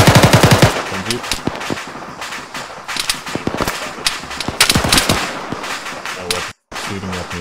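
Gunfire in the Arma military video game: loud rapid bursts of automatic fire and scattered single shots crack repeatedly, with a brief dropout near the end.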